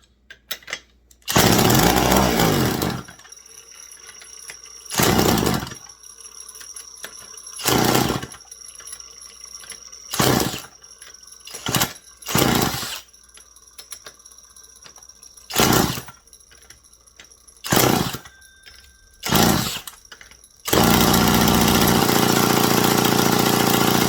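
An old Mac 10-10 chainsaw that won't stay running sputters to life in short, loud bursts about a dozen times, each cutting out quickly. It finally catches and runs steadily at a high roar at the end.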